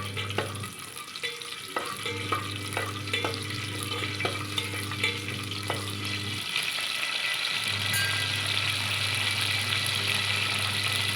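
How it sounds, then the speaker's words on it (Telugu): Whole garam masala spices fry in hot oil for mutton curry, a steady sizzle broken by a run of quick clinking spoon stirs against the pan, close and fairly loud, no voices. "ఆయిల్ వేడెక్కిందో లేదో టెస్ట్ చేసుకొని దీనిలో ఎంటైర్ హోల్ గరం మసాలా దినుసులు వేసుకుందాం ఫ్రెండ్స్."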